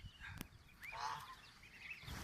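Egg-laying ducks kept on a farm give a single nasal honking quack amid faint background noise, a short call in the middle of an otherwise quiet moment.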